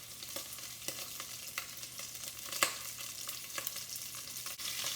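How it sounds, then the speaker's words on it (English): Short rib meat searing in hot grease for a Chianti braised stew, a continuous close sizzle with scattered crackles and pops throughout, heard alone. "Can you hear the sizzle?"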